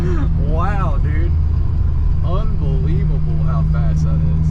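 Turbo-swapped Chevrolet Cobalt pulling hard through second gear and beyond, its engine drone heard from inside the cabin with a steady low hum, while people talk and exclaim excitedly over it.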